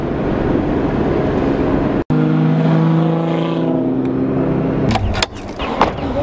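A car drives steadily along a road, its engine and road noise forming a loud, continuous drone with a brief break partway through; no voices are heard.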